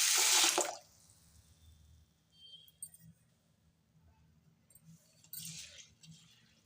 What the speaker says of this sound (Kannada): ಈಗ ಇವು ಮುಳುಗಷ್ಟು ನೀರು ಹಾಕ್ಬೇಕ್ರಿ.